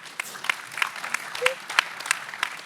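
Sparse, scattered clapping from a small audience at a renewable energy forum, a few distinct hand claps spaced out over a quiet room with a brief voice in the middle.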